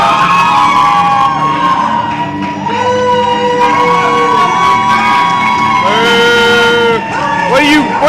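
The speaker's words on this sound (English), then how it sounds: "What are you booing for?" A wrestling arena crowd boos and shouts loudly throughout a wrestler's entrance, a dense sustained roar of jeers with yells rising above it.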